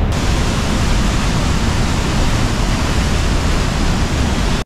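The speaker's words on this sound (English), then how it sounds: "We're now at Numa Falls, so we're gonna go check that out" Numa Falls in Kootenay National Park roars as a steady, loud, broadband rush of falling water through a canyon, continuous and unbroken throughout with no voices.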